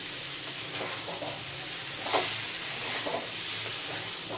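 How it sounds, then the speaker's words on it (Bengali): Fried mango pieces are stirred with sugar in a pan while making mango pickle, giving a soft steady sizzle and hiss with a few brief scraping stirs, one slightly louder, and no talking. "চিনি দিয়ে এবার নাড়িয়ে নেব।"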